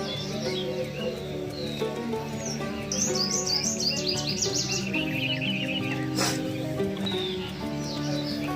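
Asian koel calls ring out repeatedly over a dense, steady background, some bright rising whistles standing out clearly for a few seconds.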